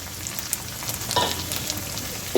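Spices with ginger garlic paste sautéing in a pan for beetroot cutlets, a steady near sizzle with short stirring clicks and scrapes, one louder clatter at the end.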